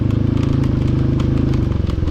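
Off-road motorcycle engine labouring steadily over a bumpy, rough mountain track near Sandakphu, a loud close continuous drone with rhythmic pulsing and faint clatter, no talking.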